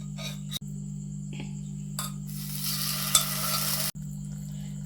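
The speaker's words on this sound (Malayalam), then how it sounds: "നമ്മൾ ഉള്ളിയും തക്കാളിയെല്ലാം വേവിച്ച് വെച്ചിട്ടില്ലേ, അത് നമ്മൾ എന്ത് ചെയ്യും, ഈ പാനിലേക്ക് ഇട്ടു കൊടുക്കും." Cooked onions and tomatoes are stirred into a sizzling frying pan for a Thalassery-style fish stew, with close scraping and a steady frying hiss under a low hum, and no voices.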